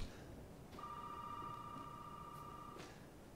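A telephone rings once with a single sustained electronic tone in Resident Evil 7, faint against a low game ambience.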